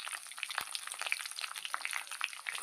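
Whole cloves, cardamom, cinnamon and chopped green chilies sizzle and crackle steadily in hot oil in a pan, with a brief low thump early on and no one speaking.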